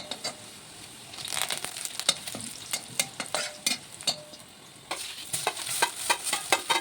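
A thick ground paste of green chilies and curry leaves sizzles and sputters in a hot pan while a spoon scrapes and stirs it in repeated strokes.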